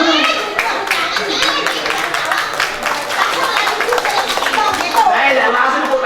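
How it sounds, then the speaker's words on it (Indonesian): Lively hand clapping at a Balinese Drama Gong performance, a dense run of sharp claps mixed with crowd applause, with voices talking over it throughout. "Saya langsung tepuk tangan nih."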